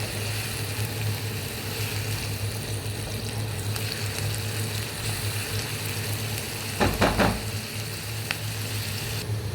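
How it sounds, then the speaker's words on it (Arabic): Onions frying in oil in a pan, a steady close sizzle throughout, with a short burst of stirring clatter near the end and no voices. "معايا شوية زيت ومعايا بصلتين. انا هنا عايزة يعني اخلي البصلة تتخدع كده، تاخد لون شوية."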